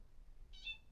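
A cat basking in the sun lets out a single short, faint meow, heard some distance off against a low background hum.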